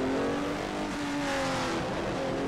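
BMW M1 Procar race car engine in a racing simulator, a steady high-pitched drone holding near-constant revs with a slight dip midway, loud and continuous with no talk.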